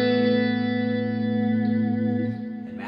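A sustained chord from a 1988 Fender USA electric guitar rings out through an amplifier, thick with chorus and distortion, slowly fading with echoing effects.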